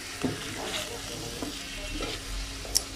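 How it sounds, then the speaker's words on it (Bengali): Snakehead fish curry sautés in a pan with a steady close sizzle, broken by occasional scrapes and taps of stirring. "এখন কষিয়ে বসিয়ে দিব। ভালো করে রান্না করে নেব।"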